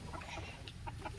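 A young chick gives a few soft, quick clucks near a coop in a quiet outdoor setting.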